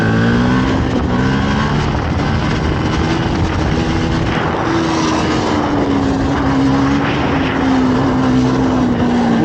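A Yamaha WR125X supermoto's small single-cylinder engine pulls uphill in second gear, droning loud and steady with a sustained tone that rises slightly, mixed with heavy wind buffeting throughout.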